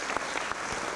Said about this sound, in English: So please give them a round of applause too